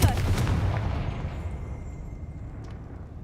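Confringo spell blast in a wizarding video game, a single loud booming burst at the start that quickly fades into a low rumbling decay.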